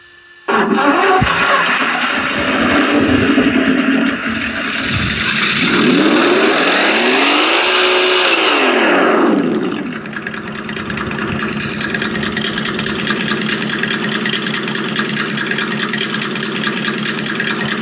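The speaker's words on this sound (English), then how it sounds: "So now it will just keep idling because it thinks it's getting just a very slight input of throttle." A dual sound module on an Axial SCX6 RC vehicle plays a loud simulated engine, revving up and down in a smooth rise and fall before settling into a steady, constant idle.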